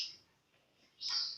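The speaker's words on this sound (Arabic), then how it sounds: "طيور البتجي" Pet budgerigars give two short, high chirps close by, one at the start and one a second later, with a quiet gap between.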